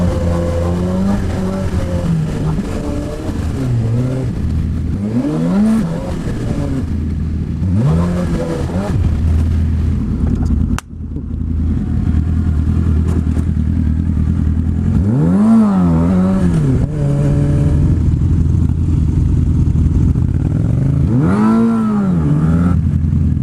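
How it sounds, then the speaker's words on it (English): A motorbike rides through Tokyo city traffic, its engine repeatedly revving up and dropping back in rising sweeps over a steady loud drone of surrounding vehicles. "Look at all this traffic."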